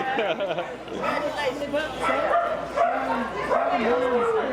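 Dogs yip and whine repeatedly close by at a tomato festival and giant pumpkin competition, their high, bending cries mixed with people talking throughout.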